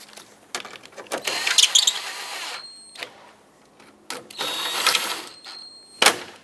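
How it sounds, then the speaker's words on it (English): Bolts are tightened on a Mazda 6 front bumper cover, with several bursts of ratcheting and whirring tool noise separated by pauses, close and fairly loud. "Take the bolts and start them back into their threads. And snug this up."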